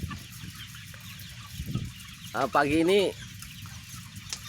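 Broiler chickens 30 days old cluck inside a poultry farm in Asahan, North Sumatra, with one louder bird calling near the middle over a steady flock murmur and brief talk at the start.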